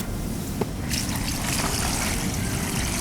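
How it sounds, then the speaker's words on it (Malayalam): Water pours into a pot for boiling giant crab and greater yam, a close, steady rushing splash that stays broad and even across the whole stretch. "എന്നാ ബാക്കി വെള്ളം ഇതിനകത്ത് ഒഴിക്കും"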